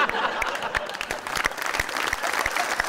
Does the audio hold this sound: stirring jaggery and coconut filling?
no